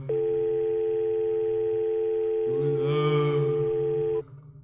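A telephone dial tone sounds after a 911 call is hung up in the Roblox Brookhaven game: a loud, steady, continuous tone with a brief overlapping noise near the end, then it cuts off abruptly.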